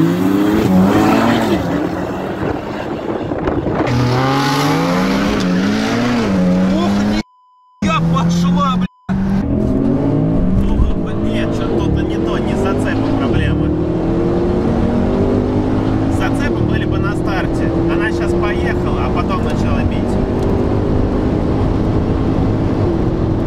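Skoda Octavia 2-litre turbo, Stage 3 plus on a hybrid turbo with 490 hp, racing a Porsche Panamera Turbo, its engine loud and close, revving and climbing through gears with brief dropouts and people talking over it.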